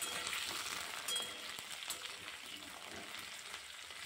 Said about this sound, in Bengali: এখন আমি কেটে রাখা ফুলকপিগুলো তেলের মধ্যে ছেড়ে দেব। এবার খুন্তি দিয়ে একটু নাড়াচাড়া করব।